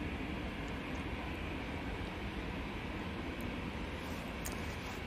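Virgin airliner taxiing at Manchester Airport, a steady broadband jet roar with a constant, unbroken drone heard from a distance.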